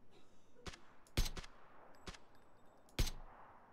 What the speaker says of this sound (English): There's gunshots coming from the south.